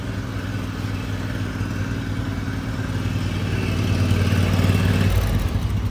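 A large homestead snowblower engine runs steadily at close range with a rough mechanical rumble and clatter, then drops in pitch as it slows toward idle near the end, no talking.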